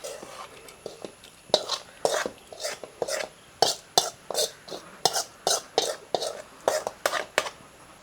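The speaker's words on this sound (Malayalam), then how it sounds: "ഇനി നമുക്കിതിങ്ങനെ എടുത്തിട്ട് നമ്മുടെ കറിയിലേക്ക് ഇങ്ങനെ ഒഴിച്ചു കൊടുക്കാം" A masala mixture for a green bean curry is poured into the pot and stirred, giving a run of soft, rhythmic scraping and clinking strokes close by, with no talking.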